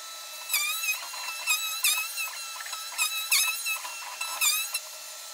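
A CNC router cuts a guitar part with a large bit, making repeated high, whining cutting passes, with about five bursts that rise and fall over a quieter background hum.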